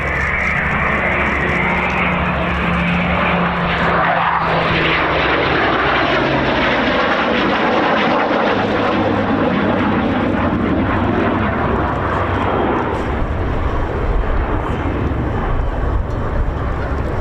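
A Spitfire and a Typhoon at the RAF Cosford Air Show 2022 produce a loud, continuous engine roar whose pitch sweeps as they pass, dense and rumbling throughout with no break.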